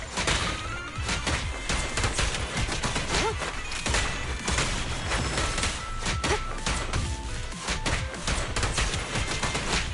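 Sustained gunfire in the video game Zenless Zone Zero, rapid repeated shots and impacts running loudly and steadily throughout with no talking.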